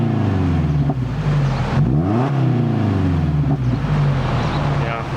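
A 2015 Subaru Legacy with its muffler removed growls with a deep, throaty rumble up close, its pitch rising and falling as it revs in a few swells.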